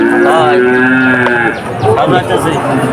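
Calves at the Churighata cattle market in Jashore district moo loudly and close by, one long drawn-out call followed by rougher, overlapping bellows amid market noise.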